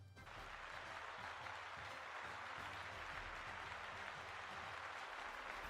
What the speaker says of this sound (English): Let's give Elenette a round of applause